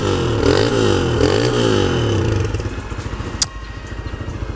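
A small alcohol-fuelled motorcycle engine runs close by, a steady revving drone that settles into a rapid, choppy idle, with a brief sharp clack near the end.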